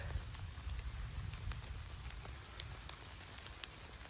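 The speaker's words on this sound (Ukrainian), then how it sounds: "знову й дощик зашумів" Soft, steady rain patters nearby in an evening forest in the Kyiv region, with scattered individual drops ticking clearly above the quiet, continuous hiss.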